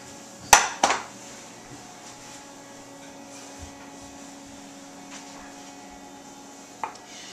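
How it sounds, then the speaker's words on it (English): A couple of sharp metallic clanks of cake pans being taken out of an oven, followed by quiet background hum and a faint clink near the end. "The cake is ready to take out of the oven,"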